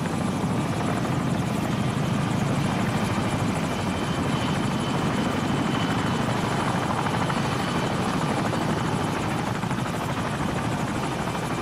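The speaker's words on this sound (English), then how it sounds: "Friendly helicopter on the way." A friendly helicopter in the video game Call of Duty 4 drones with a continuous loud rotor buzz and whirring engine, steady and close throughout with no breaks.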